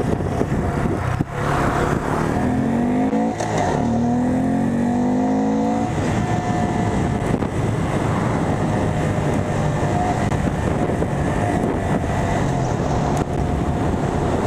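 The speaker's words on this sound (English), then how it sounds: "Oh, that engine braking is hard." Honda Grom motorcycle engine while riding, a steady loud drone with wind rush, its pitch sliding downward as engine braking slows the bike, then holding an even cruising hum; no talking.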